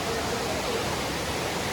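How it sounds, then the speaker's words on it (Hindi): A river and waterfall in Cherrapunji, North East India, give a steady, even broadband rush of flowing water that holds constant throughout, with no distinct splashes. "और यहाँ पे ऐसा कुछ नदी बह रही है, ऐसा कुछ झरना है."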